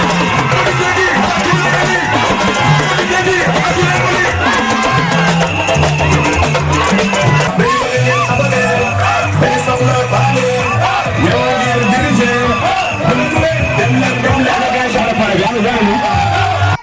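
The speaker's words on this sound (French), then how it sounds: "Elle a été accueillie par une foule en communion avec son leader." A dense crowd cheers, shouts and whoops while welcoming a political campaign caravan in Gossas, Senegal, with loud continuous babble, yells and what sounds like music beneath, steady throughout.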